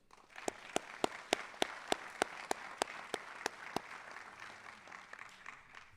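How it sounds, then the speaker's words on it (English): Audience applause at a school letter-jacket ceremony, a moderate, fairly distant crowd clapping with one or two louder individual claps landing in a steady rhythm above the rest before tapering off. "please join me in one last round of applause of appreciation for First Federal Savings and Loan"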